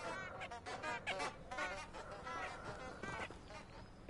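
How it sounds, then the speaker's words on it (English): Geese honking in the video game Hogwarts Legacy, a flurry of overlapping nasal honks repeating through the clip, fairly close and loud with no talk over them. "Yep, that's geese, I hear."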